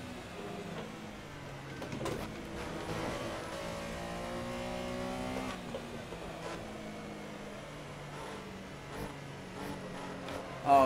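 Porsche Carrera Cup race cars from a racing video game, engines droning and shifting pitch steadily throughout, a continuous mid-level whine with gear changes and no talk.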